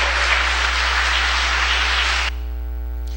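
An audience of atheists applauds in a dense, steady wash of clapping under a low electrical hum, then cuts off abruptly, leaving only the hum.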